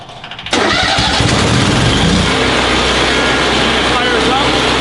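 Lincoln Ranger 330MPX welder generator engine cranks briefly and fires about half a second in, then runs loud and steady at a constant high idle with no pause.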